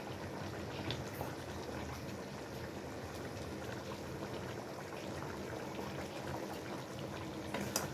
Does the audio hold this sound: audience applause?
no